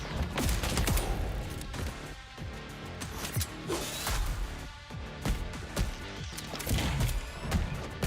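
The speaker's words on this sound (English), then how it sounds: "they shoot guns too" Enemy gunfire in the action video game Replaced, dense and continuous across the whole stretch, with rapid overlapping shots and crashing impacts layered over a busy game mix.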